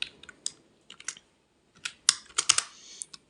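Java code being typed on a computer keyboard, with quick bursts of key clicks separated by short pauses and a denser flurry toward the end, close and alone with no talk.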